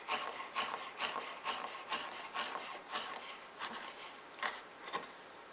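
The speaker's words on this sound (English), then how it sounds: "just do a rough chop of the peppers" Knife rough-chopping peppers on a board, a quiet series of about a dozen quick, uneven scraping cuts close by with no talking.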